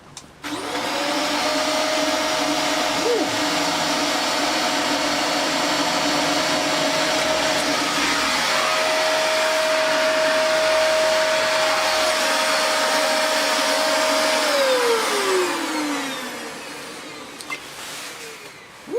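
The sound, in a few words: Dyson DC24i vacuum cleaner motor running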